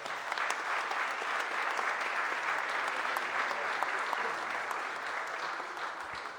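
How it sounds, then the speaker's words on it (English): An audience at a mayor's press conference launching a business roundtable gives a round of applause, a soft, steady patter of many hands clapping at moderate distance, continuous and without speech. "Please give the members a huge round of applause"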